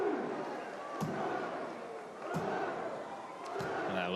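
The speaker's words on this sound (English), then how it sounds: "You hear this French crowd getting into it" A French crowd cheering at a timbersports team world championship, a steady roar of voices broken by sharp wooden chops and thuds, with a commentator talking over it.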